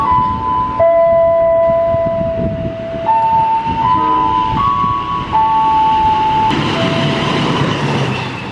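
A train passes on track 2 at an Indonesian railway crossing. Loud, close rumble and clatter of wheels on rail run under a sustained multi-tone horn or warning signal that shifts pitch several times, with the rolling noise continuing throughout.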